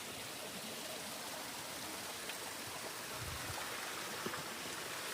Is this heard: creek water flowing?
yes